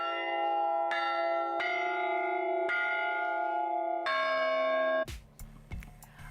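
Church bells ring in Agnone, Italy, a series of loud, sustained tolls with rich overtones struck about every second, then a quicker, clanging burst of strikes near the end; no voices.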